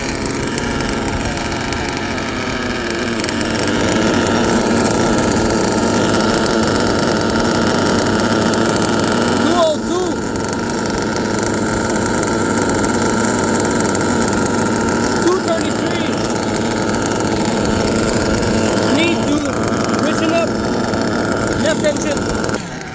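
Twin-engine OFNA Jammin X1 CRT RC truck on a custom chassis runs steadily at idle, a continuous buzzing drone held close throughout with slight rises in intensity.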